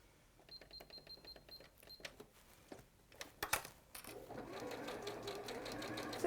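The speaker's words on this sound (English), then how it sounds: "I'm just going to sew along the raw edges using an 1/8 inch seam allowance just to secure those into place." A Juki sewing machine stitches along the raw edges of fabric with a narrow seam allowance, starting with a few clicks and taps and then settling into a steady, close mechanical whir, with no speech over it.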